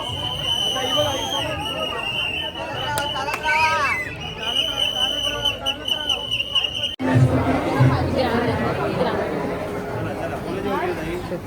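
A dense crowd of devotees packs the Lalbaugcha Raja festival in Mumbai. Loud, close babble of many voices fills the air, with occasional shouts and a brief whistle, and a sudden shift midway into a louder, busier crush.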